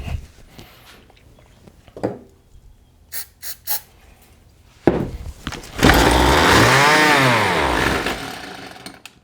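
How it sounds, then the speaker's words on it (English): A John Deere RCS400 trimmer's small two-stroke engine, fed starting fluid because of a fuel delivery issue, gives a few pull-start sputters, then fires and revs loudly for a few seconds before dying down. "So that tells us the engine is capable of running"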